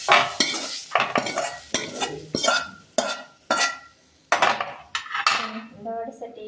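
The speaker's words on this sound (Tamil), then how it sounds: "அதை நல்லா வடைச்சட்டியில் போட்டு நல்லா கொஞ்சம் எண்ணெயை ஊற்றி நல்லா வறுத்தெடுத்துக்கோங்க" Mint leaves stirred in oil in a metal kadai: a series of loud, close clanks and scrapes of a ladle against the pan, with brief pauses between strokes and a faint sizzle underneath.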